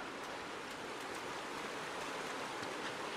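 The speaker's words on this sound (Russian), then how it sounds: "Ну Нифига себе, река еще тут бежит." A shallow, ankle-deep mountain river in Uncharted 2 rushes in a steady, dense wash of flowing water, close and continuous with no voices.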